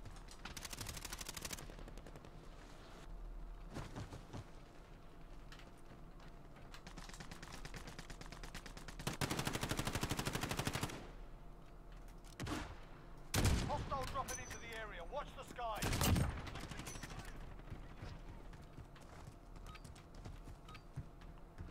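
Machine gun fire in a video game: sustained automatic bursts and scattered shots over a continuous battle din, some stretches louder and denser than others, running the whole length with only brief lulls.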